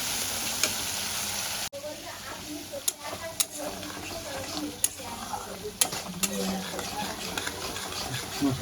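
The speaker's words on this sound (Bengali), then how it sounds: "মশলাটা আমি লো ফ্লেমে খুব সুন্দর করে কষাবো।" Spice paste sautéing in a pan over a low gas flame for a vegetarian soybean and lentil fritter curry, a soft steady sizzle with scattered clicks and scraping stirs, close by, with no talk over it.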